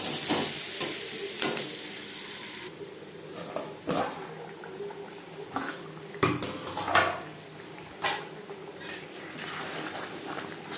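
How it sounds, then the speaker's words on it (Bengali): Potatoes frying with salt and turmeric in a wok, a soft sizzle beneath scattered clanks and scrapes of a utensil against the metal pan, fairly quiet and close, no talking. "অন্য একটি কড়াইতে আমি লবণ হলুদ দিয়ে আলু ভেজে নেব।"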